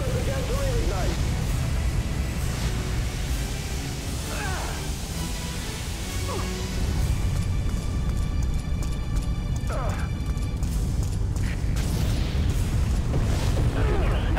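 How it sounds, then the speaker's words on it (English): Deep rumbling explosions and roaring fire in a burning building in the video game Firefighter F.D.18, a loud continuous low boom with bursts standing out, a voice speaking over it. "Damn, too many explosions."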